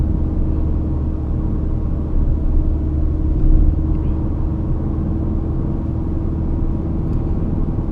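A 2017 Ford Focus RS launch-control start, engine held near 5,000 RPM before the clutch releases, produces a steady loud mid-low engine rumble from inside the car that swells slightly as it pulls away, with no talking.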